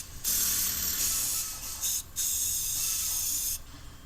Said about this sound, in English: Now we're giving it a few coats of that gray cast iron look,